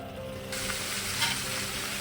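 Broad beans (chikkudukai) cooking in an oiled pan, a close steady sizzle that swells louder partway through, with a faint clink near the middle.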